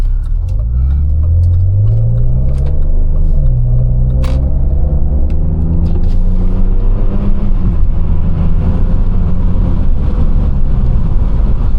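A tuned BMW E39 with a straight-piped exhaust pulls away, its loud low rumble climbing in pitch through several revving sweeps, then settling into a steady close drone while driving, with no voices.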